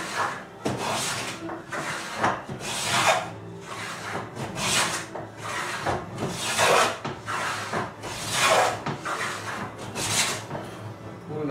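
A hand tool takes light cuts on a curly maple drawer bottom for a cherry oxbow chest, making rhythmic rasping strokes about once a second, close and steady with no talking.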